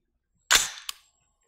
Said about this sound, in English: First we'll shoot 5 shots to get our unsuppressed average.